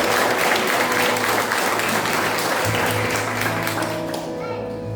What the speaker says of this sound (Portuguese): Ele pode aplaudir ao Espírito Santo.